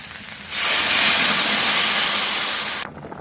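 Water poured into a hot pan of sizzling banana and potato curry gives a sudden loud hiss and steam burst that holds steady for a couple of seconds, then cuts off, with no talking.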